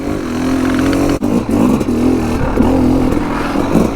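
Yamaha YZ 250 two-stroke dirt bike on a dry single-track trail, its engine droning loud and close with brief throttle dips and rising revs, no talk.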